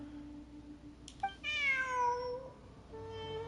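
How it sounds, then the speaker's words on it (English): A cat meowing in the Genshin Impact video game, one clear drawn-out meow that rises and falls over about a second, heard alone against faint game background sound. "Oh my god, it's another kitty"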